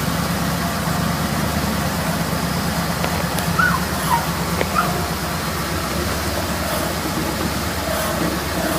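A 1961 Willys CJ5 jeep engine idles steadily up close, a loud continuous low rumble with a few faint clicks and no talking over it.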